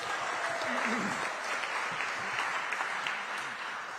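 A crowd in Denver Harbor applauds and cheers at an outdoor press event for a summer heat program, with sustained clapping and scattered shouts heard from a short distance and a voice speaking over it.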